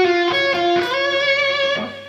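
Distorted electric guitar plays a short phrase from a solo, a few quick picked notes leading into a long sustained bend, heard alone and close.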